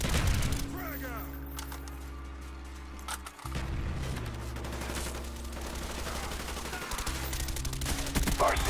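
Call of Duty: Black Ops battle sounds: a dense fusillade of gunfire and machine-gun bursts with a grenade blast partway through, loud and continuous with engine-like rumble underneath, and a brief drop before the firing resumes.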